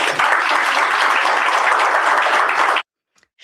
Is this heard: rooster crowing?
no